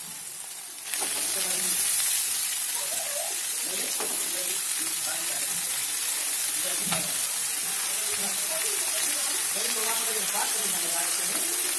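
Fresh fenugreek (methi) greens hit a pan of cooked tomatoes with a sudden loud sizzle that settles into a steady frying hiss, with occasional stirring clatter and a voice speaking over it.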